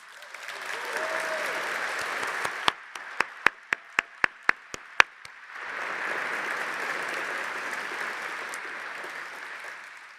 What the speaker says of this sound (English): go ahead and give yourselves a rousing round of applause